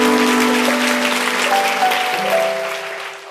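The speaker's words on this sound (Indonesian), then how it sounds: "Saya tepuk tangan untuk Tuhan Yesus." A church congregation applauds in praise of Jesus, a steady dense wash of clapping that fades slightly toward the end, with sustained musical tones held underneath.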